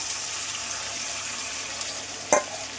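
Marinated chicken pieces frying in hot oil, a steady soft sizzle and hiss with a brief louder splash of sizzling near the end.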